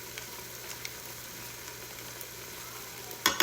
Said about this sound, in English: I'm gonna let this cook for about 1 minute, just stirring pretty frequently